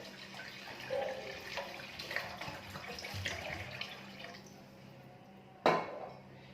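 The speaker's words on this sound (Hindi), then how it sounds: "इसको अब 1 लीटर पानी डालेंगे इसके अंदर" Water, about a litre, is poured into a pot of drained, soaked rice, giving a running, splashing wash with a few metallic pot knocks and a sharp clank near the end.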